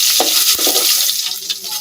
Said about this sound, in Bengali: তেল গরম হয়ে গেছে, এখানে আবার একটু জিরা ফোড়ন দিব এবং